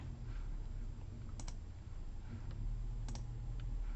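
A few scattered keystrokes on a computer keyboard, brief clicks at intervals under a steady low background hum, with no talking.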